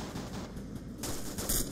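Gunfire in the military video game ArmA 2 during an ambush training session, faint scattered shots and bursts with a couple of sharper reports near the end.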